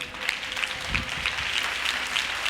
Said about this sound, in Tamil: நல்ல கைதட்டு பார்க்கலாம்,